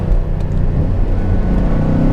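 A Ford Mustang Mach 1 engine idles close by, a loud, deep, steady rumble with a throbbing low burble and no speech.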